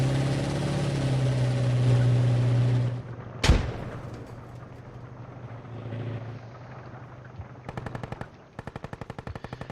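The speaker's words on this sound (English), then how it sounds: "Ritzenholler pushing into the upper fence, taking out Ops X Gaming on the heavy MG." Bursts of heavy machine gun fire in a squad-based war shooter match between Russian and British teams, a sustained loud roar breaking into a sharp blast, then rapid staccato volleys near the end, no talk.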